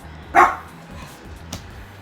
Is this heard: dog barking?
yes